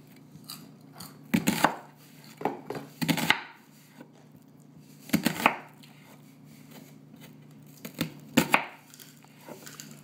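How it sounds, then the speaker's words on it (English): A knife chops onions on a cutting board in a home kitchen, giving sharp, close knocks in irregular clusters of two or three with short pauses between, and no talk. "I'm not very good at chopping the onions, but you get the idea"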